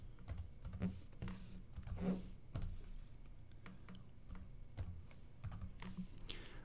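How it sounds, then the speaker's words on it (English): Clicks from a computer keyboard as an IP address is typed in, a close, irregular run of separate keystrokes with brief pauses, quiet and with no one talking. "I'm going to go down here and type that in now"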